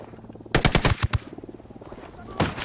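Bursts of automatic gunfire from the Ghost Recon Wildlands video game: a rapid volley of about six loud, close shots, a short pause, then another sharp burst near the end.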